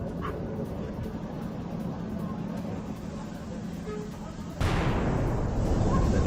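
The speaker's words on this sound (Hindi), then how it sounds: "एक के बाद एक धमाके होते हैं" Missile explosions in Abu Dhabi's Khalifa Economic Zone: a distant, muffled blast swells abruptly over steady low rumbling background noise.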